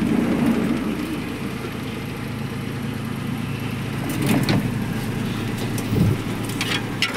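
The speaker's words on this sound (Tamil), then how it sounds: "வண்டி இன்ஜின் ஸ்டார்ட் பண்ணி வச்சுன்னா வண்டி ரன்னிங்கில் தான் இருக்குது." A Maruti Omni van's engine idles with a steady low rumble throughout, with a couple of louder bumps and some broadband hiss over it.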